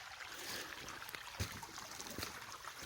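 Creek water trickling and babbling along a shallow stream on a walk with two small dogs, a faint, steady wash with a few soft splashes and no talk.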